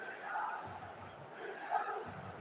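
A faint, distant stadium crowd roars and swells in the eFootball 2026 mobile football game as two sides prepare for a match.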